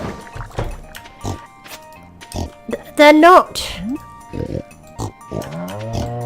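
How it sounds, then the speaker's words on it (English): Pigs on a farm in Stardew Valley give several short grunting oinks, close and clear, among a player's speech and soft game sound effects. "I ought to go and fuss these pigs"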